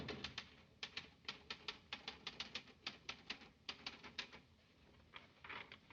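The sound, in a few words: typewriter typing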